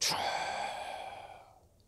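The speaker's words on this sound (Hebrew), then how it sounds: "אני מוציא את כל האוויר" A single deep breath pushed all the way out during a slow breathing exercise, a long audible sigh-like exhale that starts with a sharp burst and fades steadily, close and alone.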